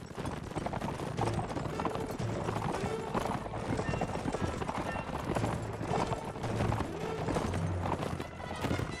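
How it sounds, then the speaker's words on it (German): Cavalry horses gallop across the battlefield in Mount and Blade: Warband, a dense, continuous clatter of many hooves with occasional whinnies, steady and fairly loud throughout. "Ach, meine treue Kavallerie ist schon massivst auf dem Vormarsch."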